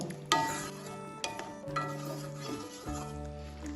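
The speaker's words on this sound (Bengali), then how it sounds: "ভালোভাবে এবার মিশিয়ে নেব।" A spoon stirs prawn and bitter gourd curry with slit green chillies and sugar in a pan, giving soft scrapes and a faint sizzle in a few separate strokes over a steady tonal background.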